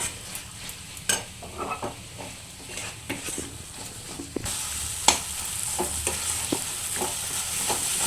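Snails sautéing in masala curry in a pan, with repeated sharp spoon scrapes and clinks over a continuous sizzle that grows louder and hissier partway through.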